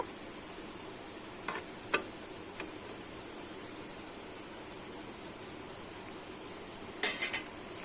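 A metal lid clinks down onto a cooking pot with a couple of light knocks at one point and a bright rattling clatter later, over a steady low hiss of simmering.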